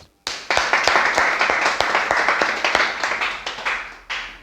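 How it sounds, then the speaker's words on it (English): An audience at an IELTS preparation institute in Lahore applauds a presenter, with a few hands clapping in a fairly loud, uneven rhythm that starts abruptly, thins slightly and swells again at the end. "clapping for him as well"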